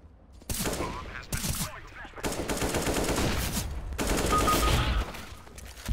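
Gunfire in the shooter game CS:GO, with several loud bursts of rapid shots broken by short pauses, then a longer sustained stretch of firing that swells toward the end.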